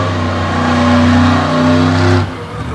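A monster truck's engine roars close and loud through a freestyle run at a Monster Truck Tour event in Franklin, PA, holding a sustained rev for about two seconds before dropping off sharply.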